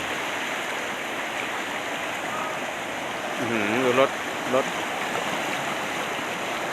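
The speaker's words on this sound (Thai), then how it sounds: "อีกซอยหนึ่งมีที่น้ำไหลลงมา น้ำไหลหลากในเขตเทศบาลตำบลบันใหม่" Floodwater rushing down a street in a municipal area during a storm, a steady broad watery roar throughout with someone speaking briefly partway through.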